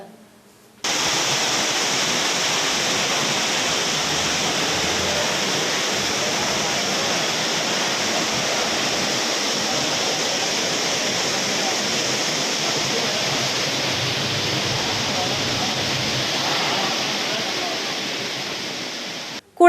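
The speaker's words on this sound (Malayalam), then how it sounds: "ചവിട്ടുപടികളിലൂടെ വെള്ളം നേരിട്ട് ഓഫീസിനകത്തേക്ക് ഒഴുകി" Floodwater from heavy rain gushes off a road and down the steps into an irrigation office in Manjeri, making a steady, loud, unbroken rushing roar from start to finish.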